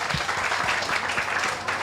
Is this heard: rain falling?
no